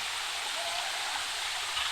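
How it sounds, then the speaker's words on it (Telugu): Spring water flows continuously at the Gubbala Mangamma Thalli temple on the Andhra Pradesh–Telangana border, a steady close rushing splash with no other sounds. "చూడండి అసలు వాటర్ ఎలా వస్తున్నాయో"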